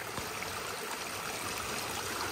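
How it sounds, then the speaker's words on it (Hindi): Cold glacier stream water flows near the Panchachuli basecamp in the Darma valley while a container is filled, making a steady, close rushing trickle with no talking. "तो यहाँ से देखिए पानी भर के ले जा रही हूँ मैं"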